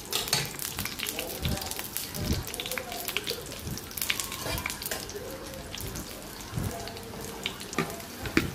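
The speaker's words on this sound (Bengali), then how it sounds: "রসুনটা ভেজে ডালটা বাগার দিয়ে দিব" Garlic fries in hot oil for tempering dal, giving a quiet, continuous sizzle with occasional scrapes and clinks of stirring.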